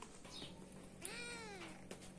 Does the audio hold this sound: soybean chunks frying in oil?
no